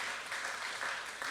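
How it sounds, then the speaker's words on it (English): A live podcast audience at San Francisco Sketchfest applauds in a brief, steady burst of clapping, even and moderately loud, with no voices over it. "I don't want to make fun of them for applauding that"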